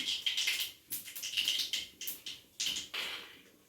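Mustard seeds pop and crackle in hot oil during tempering, a quick series of sharp, close crackles in bursts with brief pauses, no voices.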